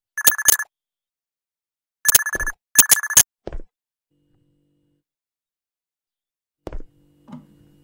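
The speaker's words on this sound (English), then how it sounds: "Is that the cell phone?" A cell phone in a horror video game rings in sharp electronic bursts, three clustered trills followed by a shorter one, loud against silence, then a couple of faint thuds.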